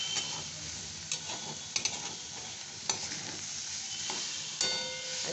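Food sautés in a pan close by, with a steady sizzle and sharp intermittent clicks and scrapes from stirring, and no voices.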